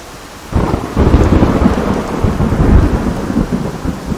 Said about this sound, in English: we can have a further demonstration of the rain sounds while we're here anyway